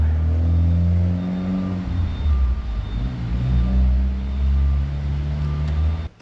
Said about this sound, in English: Once I saw the car driving away